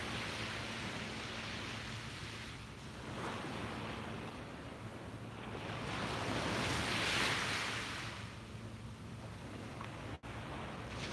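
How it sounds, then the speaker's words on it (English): Ocean waves wash onto a beach in slow surges, rising and falling over several seconds with one louder break near the middle, steady broadband rush with some wind, no voices. "when I can come to the beach and breathe in the salt air and look at the waves and the wildlife"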